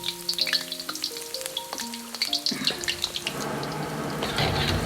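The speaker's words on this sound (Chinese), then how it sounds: "下入虾仁，" Shrimp frying in hot oil in a wok for a kung pao shrimp dish, with steady crackling sizzle that grows denser and louder after a clattering of the ladle against the pan.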